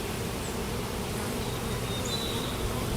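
A hive opened for inspection after two years holds honey bees buzzing in a loud, continuous, close roar, with individual bees droning by now and then and no voices.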